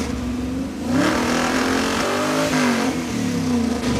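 A car engine on stock ignition wiring revs loudly up and down, its note wavering and stumbling unevenly as it misfires under sustained throttle, close and continuous with no talk.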